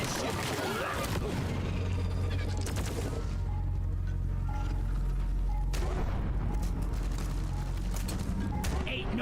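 An automated sentry gun in Deep Rock Galactic fires in long, rapid mechanical bursts amid constant combat noise and rumbling, while voices speak over the din.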